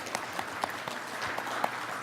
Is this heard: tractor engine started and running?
no